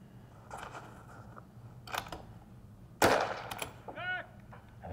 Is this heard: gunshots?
yes